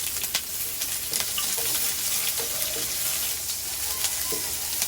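Garlic and onion sautéing in a pan, a close, continuous hiss of frying with a few soft clicks and scrapes of a utensil stirring through it.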